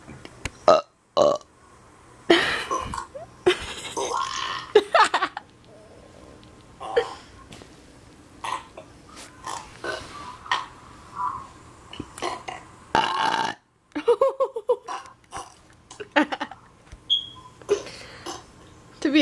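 Repeated loud burps from people in a burping contest, bursts of varying length coming in quick succession with brief pauses between them, close to the microphone.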